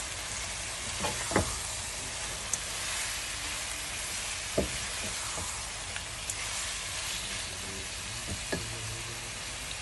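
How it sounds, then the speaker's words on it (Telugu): Raw shrimp going into a hot pan and being stirred as they fry, a steady broad sizzle throughout with a few sharp clicks and scrapes of the spoon against the pan, no talking. "ఇప్పుడు దీంట్లో కుక్ చేసిన పచ్చి రొయ్యలు వేస్తున్నాను. శుభ్రంగా ఒకసారి కలుపుకోవాలి."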